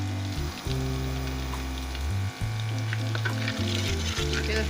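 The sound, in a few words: garlic ginger paste frying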